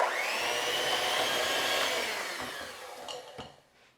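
An electric mixer whirs steadily as an egg and vanilla extract are beaten into persimmon cookie batter, a close, fairly quiet motor hum that winds down near the end with a few clicks and knocks.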